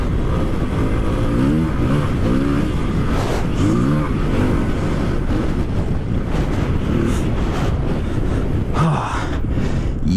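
A motorcycle rides across open desert, its engine droning steadily with rising and falling revs under heavy wind rush against the microphone.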